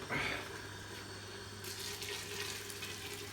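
Boiling water pours steadily into a pot, a continuous close rushing stream with a brief splash at the start.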